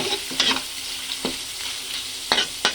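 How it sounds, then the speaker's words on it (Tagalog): Fatty pork offal rendering its fat in a pan for dinuguan, a soft steady sizzle broken by a few sharp stirring scrapes, close and with no voices. "magpapalabas muna tayo ng mantika doon sa matabang bahagi ng lamang loob"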